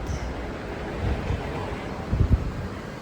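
Outdoor wind on a hot morning walk to a mall, a continuous low rumble buffeting the microphone, with a few stronger gusts near the end and no talk.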